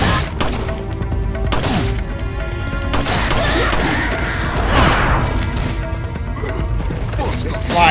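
Rapid gunfire in the video game Resident Evil 4: Separate Ways, a dense run of sharp repeated shots and impacts mixed with game music and effects, loud and busy throughout.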